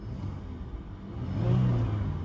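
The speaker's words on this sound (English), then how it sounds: "Engine sounds fantastic" A flood-damaged Cadillac STS engine runs with a steady low rumble, its revs swelling briefly about midway before settling back, close and clear with no voices.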